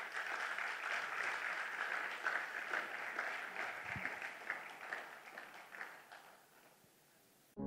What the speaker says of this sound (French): Lui, c'est Costa Yekima. Sous vos applaudissements, mesdames et messieurs.